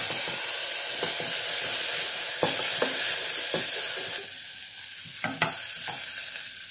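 Garlic hitting frying onions that are already turning glassy in a pan, giving a steady, fairly loud sizzle and hiss with several sharp spits and stirring clatters.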